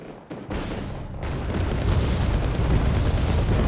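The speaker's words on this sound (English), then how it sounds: "Drops the 500 kilogram bombs onto the edge of the forest." Heavy 500 kg bombs explode along a forest edge in the Wargame Red Dragon strategy game, a dense rumbling blast that swells and sustains loudly with no voices over it.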